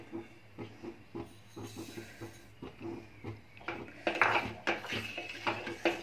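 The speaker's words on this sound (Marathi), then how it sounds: "तर कस्टर्ड पावडर टाकल्यानंतर पूर्ण ढवळून घ्यायचं आहे।" A spoon stirs custard powder and sugar into milk in a pot over a low gas flame. The scraping strokes are quick and rhythmic and grow louder and busier toward the end.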